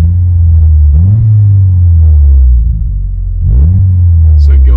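Subaru WRX fitted with a throttle response controller, heard up close as the engine repeatedly blips and revs in loud low rumbling surges that dip briefly between pulls. A voice talks over part of it.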